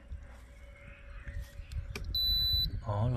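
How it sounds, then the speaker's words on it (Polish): A portable fridge powered from an ALLPOWERS R1500 power station gives a short bright electronic beep as it switches on, following faint rustling and a soft click, with low background rumble. "O, lodówka piknęła."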